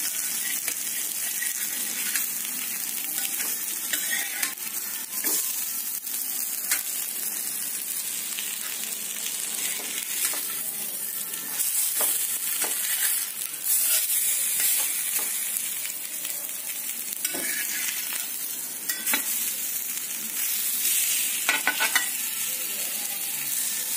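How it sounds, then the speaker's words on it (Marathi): Surmai fish pieces frying in oil in a pan over low heat, a steady close sizzle and crackle with occasional scraping clicks as the pieces are turned, no voices. "आता आपण आपल्या ह्या फिशला थोडंसं पलटवून घेणार आहोत"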